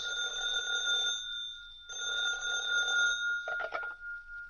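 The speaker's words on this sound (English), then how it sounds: "A half hour later, Clark Kent's telephone rings." A telephone rings in a radio drama scene: two long bright trilling rings separated by a short pause, then a rattled cutoff as the receiver is picked up, loud and close.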